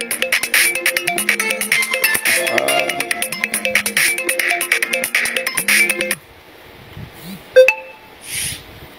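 A phone ringtone plays loudly as a repeating melodic electronic tune during a live stream, then cuts off abruptly, leaving a quiet room with a few faint clicks.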